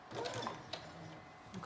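A home sewing machine slowly stitches a knit dress seam, a faint soft mechanical whir with light ticking as it eases to a stop.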